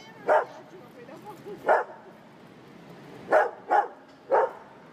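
A dog barks at a passing stroller on a street, five sharp separate barks spread over a few seconds with quiet gaps between them.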